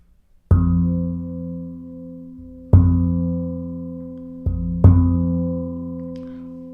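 The deep metallic ding note of a Battiloro Luna handpan struck three times, each ringing out with shimmering sustained harmonics and sympathetic resonances that slowly decay before the next strike.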